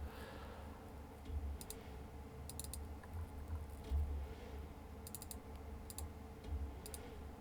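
A computer mouse clicks softly on a desk during 3D model texturing work, giving several short crisp clicks, some in quick double pairs, scattered over a low hum, faint and without speech.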